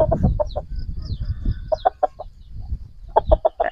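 Free-range village rooster clucking in short, repeated bursts, close and fairly loud, with low thumping noise in the background.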